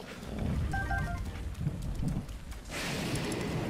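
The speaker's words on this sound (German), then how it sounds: "Ja, aber es regnet noch leider." Steady rain with low rumbling in Zelda: Breath of the Wild, a constant wash of falling water with a faint tonal cue early on and the rain growing brighter and heavier toward the end.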